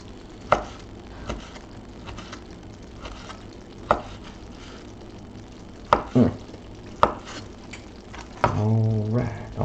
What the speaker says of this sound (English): almost got the sausage chopped up